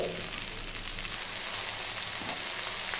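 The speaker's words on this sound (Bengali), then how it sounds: "পেঁয়াজ কুচি আমি ভালো করে ভেজে নিচ্ছি।" Chopped onions frying in hot oil in a pan, a steady close sizzle with faint crackles throughout and no talking.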